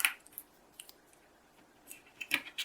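Tape is torn and pressed down to hold a craft die in place on a card, a few faint, quick ripping and sticking sounds spread unevenly over a quiet background.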